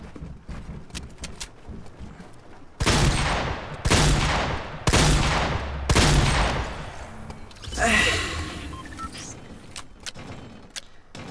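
Loud bursts of gunfire in the Fortnite mobile video game. Four or five heavy volleys of about a second each land in quick succession among quieter game sounds, close and dominant, with no talking.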